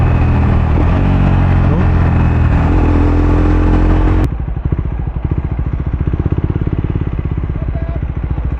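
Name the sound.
Triumph Speed 400 motorcycle with Muff City slip-on exhaust downshifting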